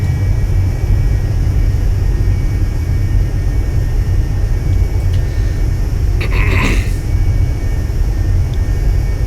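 A Cessna Citation II 550 business jet descending in X-Plane 11, heard as a steady, loud, broadband engine rumble and hiss that never lets up, with a brief higher whine near the end.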